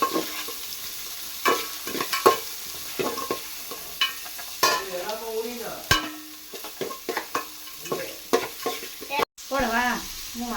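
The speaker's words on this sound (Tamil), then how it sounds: "வெங்காயத்தை நல்லா வதங்கட்டும்" Onions sautéing in a pan for a home-style prawn biryani, with a steady crackling sizzle broken by frequent stirring scrapes and clatters, and brief speech over it.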